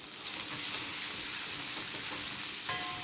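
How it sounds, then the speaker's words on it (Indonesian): Anchovies and onion frying together in oil until crispy, a dense continuous close sizzle with a short metallic ring near the end, no talking. "Masukkan ikan bilis bersama dengan bawang supaya dia akan garing bersama."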